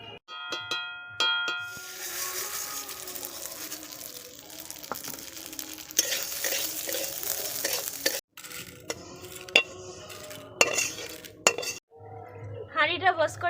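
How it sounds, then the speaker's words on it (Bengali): Mung dal fries in ghee in a pot with a crackling sizzle broken by repeated stirring scrapes and metal clinks, close and uneven. "এবার মুগ ডালটা ভাজবো। তার জন্য ঘি নিয়েছি, ঘি দিয়ে মুগ ডালটা ভাজবো।"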